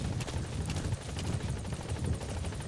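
Steady rhythmic thumping of helicopter rotors in Metal Gear Solid V, close and continuous, with a dense low rumble and no talking.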